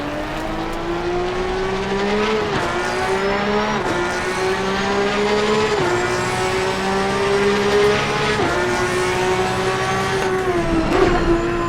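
Porsche 911 GT3 Cup race cars in a sim-racing game roar together at Donington Park. The engines rise and fall through repeated upshifts and downshifts, with faint tire squeal as they brake into corners. There is no talking.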